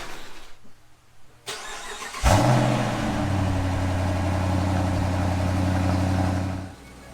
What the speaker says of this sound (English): So I just need to pull my car out of the garage and turn it around.